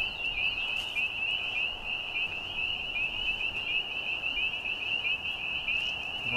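A dense night chorus of frogs croaks continuously in a high, steady trill at moderate volume, with no voices.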